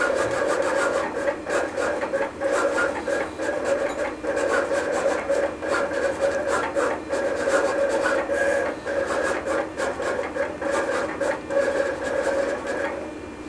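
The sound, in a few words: Roland GX24 vinyl cutter cutting heat applied film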